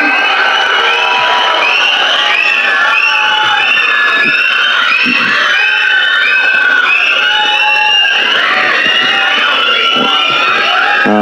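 A large audience at the Garudan film audio launch cheers, claps and whistles continuously. The roar is loud and dense and persists throughout with no break.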